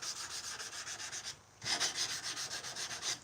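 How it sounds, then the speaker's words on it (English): Rhythmic rasping strokes of hand sanding a knife blade's plunge line with 220-grit paper, steady back-and-forth passes with a brief pause midway, close and moderately loud. "it makes hand sanding that plunge line a hell of a lot easier"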